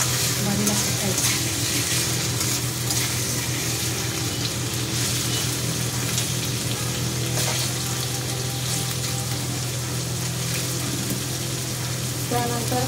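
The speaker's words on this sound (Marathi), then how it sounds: "चांगलं आता तेलामध्ये लसणामध्ये हिरवी मिरचीमध्ये परतून घ्यायचं." Garlic and green chili sautéing in hot oil, a continuous close sizzle with faint stirring underneath.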